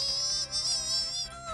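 A cartoon mosquito buzzes loudly and close in the 2002 animated series Curious Ping & Pong, a high, wavering whine that holds steady throughout.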